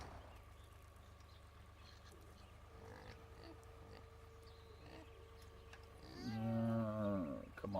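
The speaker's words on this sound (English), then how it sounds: "Hear the pig squealing." A pig squeals in Farming Simulator 2013, rising into a loud, wavering cry near the end over a steady low machine hum and faint background noises.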